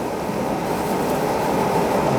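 The Hamanasu overnight express train runs through Hokkaido with a steady broadband rumble and rail noise heard from inside a carriage, continuous and fairly loud, with no talk.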